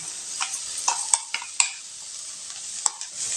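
Ground roasted spice powder is stirred and sautéed with soya chunks in a pan, with a soft sizzle under several sharp scraping stirs and clinks spread through the clip.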